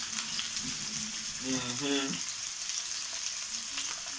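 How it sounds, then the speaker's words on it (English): Fish fries in oil in a pan with a steady, dense sizzle throughout, close and moderately loud, while a voice briefly speaks or hums over it midway. "You're gonna make each side fry for about 10 minutes."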